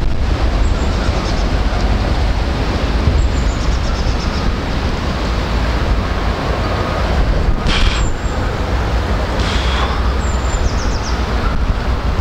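Loud, constant rumbling wind buffeting the microphone outdoors while fishing, a heavy low roar with brief higher whooshes and gusts throughout, blowing dust.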